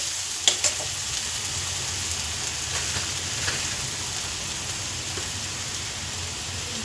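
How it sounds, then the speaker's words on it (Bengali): Steady sizzling of spices frying in a hot pan, with a couple of brief clicks near the start and no talking. "ভালো করে ভাজা হয়ে গেছে এবার এতে সব বাকি সব মশলা দিয়ে দেবো"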